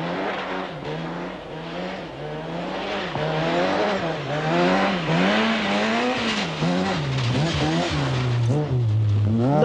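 A two-wheel-drive rally car, a powerful Ford, races through a stage of the 1988 Lombard RAC Rally. The engine revs rise and fall steadily, loud and close throughout with no voices.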